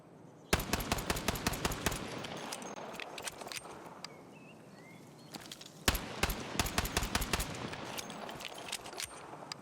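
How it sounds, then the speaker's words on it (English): 1911 pistol gunfire in the video game Battlefield 6: two bursts of rapid, sharp, woody cracks separated by a brief lull, loud and close, with no speech. "BF6's shooting sounds a lot like somebody hitting on a hard wood"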